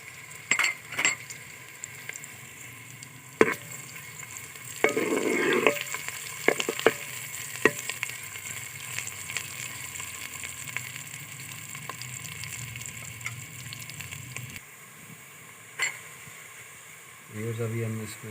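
Onion, ginger and garlic frying in a pan for methi palak salan, a steady soft sizzle with scraping stirs and a few metal clinks, close and low, with a voice speaking at times.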